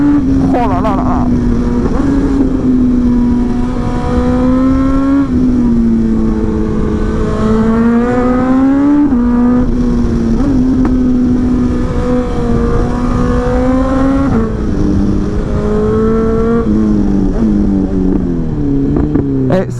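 A 2023 BMW S1000XR motorcycle engine revs repeatedly, its pitch climbing and dropping through several loud acceleration runs, close to the microphone.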